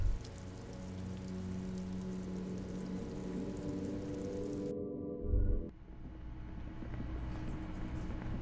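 Rain in the video game Disco Elysium, a steady hiss of rain on surfaces with a low rumble that cuts out partway, leaving quieter rain alone.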